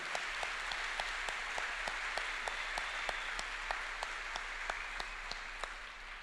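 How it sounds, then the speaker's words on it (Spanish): A church congregation at an Easter service claps together in a steady, even beat, each clap sharp and regular over a continuous wash of crowd noise, filling the room at moderate loudness. "Aplaudan al Señor."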